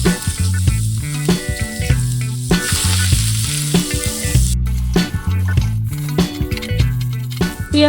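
Steamed diced potatoes fry in white oil in a wok, giving a loud continuous sizzle with crackling bursts and uneven pops throughout.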